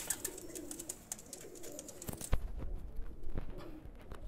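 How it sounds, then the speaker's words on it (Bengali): Home-bred homing pigeon chicks coo in soft bursts over fluttering and handling noises, with sharp clicks and wingbeat-like thumps in the second half. "এই একটা কবুতর দেখেন"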